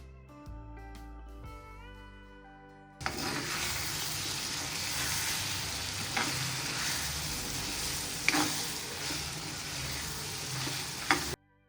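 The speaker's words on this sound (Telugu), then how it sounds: "మటన్ కీమా ఇలా ఆయిల్‌లో చక్కగా ఫ్రై అవుతుంది" Mutton kheema frying in oil in a pan, a dense, steady sizzle that starts abruptly after a few seconds of music and carries on close and loud, with occasional louder pops and stirring clatters.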